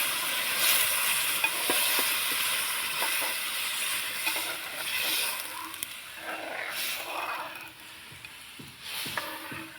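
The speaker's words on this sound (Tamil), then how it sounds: "இப்போ தயிர் இதில் ஊற்றிடுவோம்" Curd is poured into a hot tempering and stirred while making village-style curd rice, giving a steady sizzle and hiss with scattered clinks of stirring and no voices.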